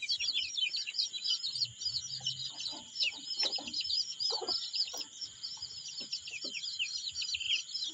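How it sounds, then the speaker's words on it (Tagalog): A flock of Rhode Island Red chicks keeps up a dense, continuous chorus of shrill peeping, close and steady throughout, with a few softer lower clucks underneath. "Ito naman yung Rhode Island. Ayan, yung ayan. RIR, Rhode Island Red."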